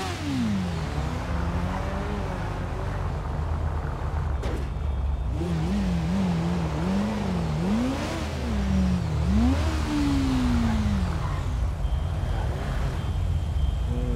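A car in GTA V braking and accelerating, its engine pitch rising and falling through revs, with a steady engine drone running throughout and no talk.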